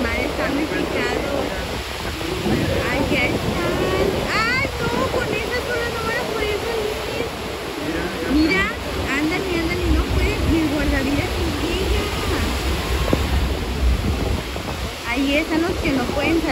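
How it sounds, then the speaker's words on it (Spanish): Rough, choppy sea at a Cancún beach, a loud continuous roar of breaking surf and churning water that stays dense throughout, with people talking faintly under it. "Pero tampoco puede entrar porque el mar está muy picado."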